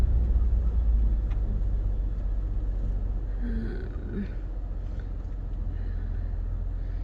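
A 2007 Nissan Maxima on the move, a steady low rumble of engine and road noise from inside the cabin, even and continuous.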